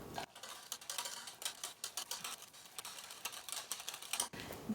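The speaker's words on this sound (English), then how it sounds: "I'm going to whisk it really fast and really hard" Whisk beating fast and hard in a pot of keto blackberry jelly, a quick run of close, light metallic clicks and taps with no talking.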